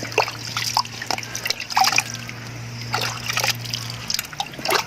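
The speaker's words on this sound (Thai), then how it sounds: "แล้วเราก็รดน้ำแบบนี้ก็ได้นะคะ" Water poured onto a potted caladium plant while growing it at home, a soft ongoing trickle and dribble with light splashes, moderately close, over a steady low hum, with no talking.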